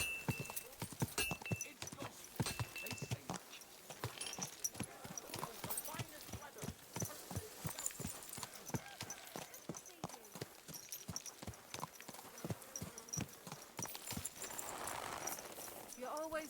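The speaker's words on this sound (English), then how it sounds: "Easy, good horse." Horse hooves clip-clop in a steady walking rhythm in the medieval video game Kingdom Come: Deliverance II, clear and continuous, with voices talking over the hoofbeats.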